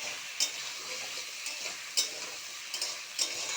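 Taro, potato and onion fry in oil with a constant soft sizzle, and a spatula knocks and scrapes against the pan every second or so.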